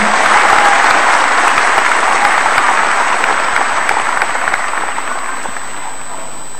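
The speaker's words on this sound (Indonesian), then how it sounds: "mari kita berikan tepuk tangan yang meriah kepada seluruh tamu dan" Sustained, dense applause from a large crowd honouring guests at a Hanura party ceremony, steady and loud from start to finish with no talk above it.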